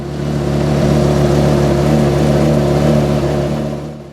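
A 2005 Porsche Carrera GT's engine holds a loud, steady rev through its stainless steel exhaust with matte black dual outlets, close and sustained before easing off at the end.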